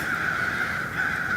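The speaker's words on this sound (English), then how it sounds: "These crows are going nuts over here" A dense, continuous chorus of crows cawing loudly and nearby in Kentucky, calls overlapping with no pause throughout.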